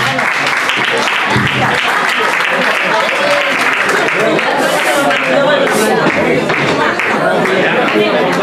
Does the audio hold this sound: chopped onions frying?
no